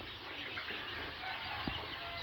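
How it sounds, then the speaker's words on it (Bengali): Faint, scattered clucks and peeps from one-week-old Fayoumi chicks under a steady background hum, with no talking. "আপনারা সরাসরি দেখতে পাচ্ছেন অরিজিনাল মিশরীয় ফার্মি মুরগি"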